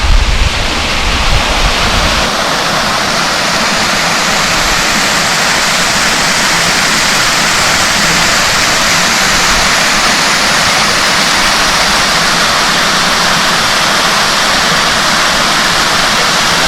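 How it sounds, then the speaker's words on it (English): Rogers Creek Falls, a remote mountain waterfall in Scotts Gulf, cascading down the mountainside in a steady, loud, continuous roar of rushing water that fills the whole clip, with no voices. "So this is Rogers Creek Falls, cascade coming down the side of the mountain right here"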